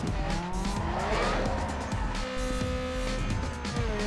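A race car at full throttle in the video game Need for Speed: Underground 2, its engine roaring continuously and loud, with tire squeal and skidding layered over the revving.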